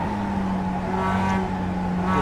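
Onboard a race car lapping Brands Hatch circuit, the engine drones loud and steady at high revs throughout, close and unbroken, with no voices.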